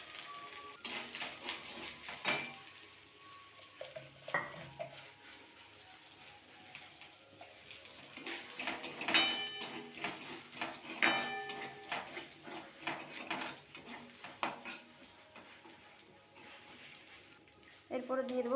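Chopped coconut fries in a little oil in a pan for basmati-rice khichuri, giving a soft, steady sizzle broken by scraping and clinking of a spoon stirring against the metal, with talking over it.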